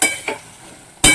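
Spices, red chilli powder, Kashmiri chilli powder and sugar, being stirred in a cooking pan: a scrape near the start, a short clink, a quiet stretch, then a louder scrape at the end.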